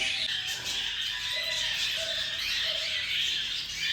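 Caged birds for sale call in short, repeated tweets and squawks over a steady background hiss, moderately near and fairly faint, with no talking.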